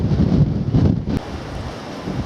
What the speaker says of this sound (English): The wind's still coming though.